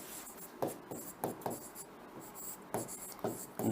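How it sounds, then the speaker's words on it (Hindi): Writing on a board during a lesson, a series of close scratchy strokes in irregular bursts, some sharper taps between them, with faint murmuring in the background. "तो मैं लिख रहा हूं"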